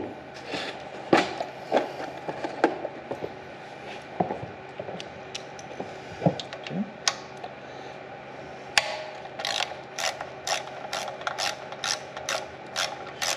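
A hand ratchet wrench loosens the fasteners on the air cleaner housing of a small engine, giving bursts of rapid clicking with short pauses and a few metallic clanks, close and alone.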